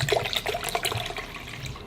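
Water pours into a drink bottle marked at 12 ounces for an MRE drink mix, a close, continuous gurgling splash that runs steadily alone.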